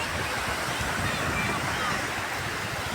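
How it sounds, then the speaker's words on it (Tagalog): Strong sea waves wash continuously onto a sandy beach where fishing boats rest, a dense, loud, unbroken roar of surf for the whole stretch. "Medyo malakas yung alon niya guys."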